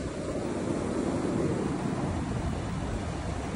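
Ocean surf and strong, steady southwest wind of about 20 mph at Pawleys Island beach in South Carolina on an overcast day with 3-foot waves, a continuous broadband roar with wind buffeting the microphone.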